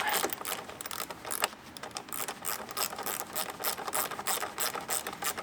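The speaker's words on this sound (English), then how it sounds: "I'm going to grab my wrench with a ratchet with a 10mm socket" A ratchet wrench with a 10mm socket turns a bolt while Rokblokz mud flaps are fitted to a 2022-or-later Chevrolet Silverado 1500 ZR2, giving a dense, continuous run of close, loud ratcheting clicks with brief dips in pace.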